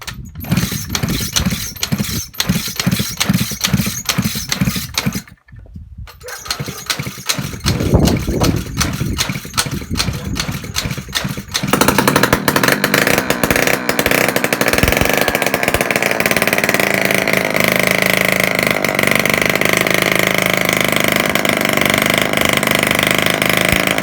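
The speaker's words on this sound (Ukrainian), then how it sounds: "спробуємо деркнути наш мотор" A Suzuki ZZ scooter engine with a fuel pump problem is cranked and sputters, then catches and runs steadily and loudly, a continuous buzzing drone close by.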